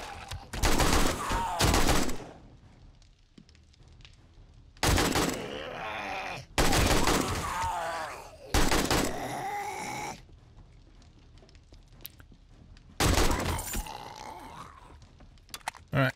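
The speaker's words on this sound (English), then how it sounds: "we're just going to blast them with the AK when they break through" AK rifle fire in the zombie survival game 7 Days to Die comes as several loud bursts of automatic shots, separated by quieter stretches of low background noise.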